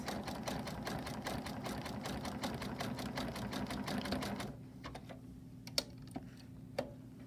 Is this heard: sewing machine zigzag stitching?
yes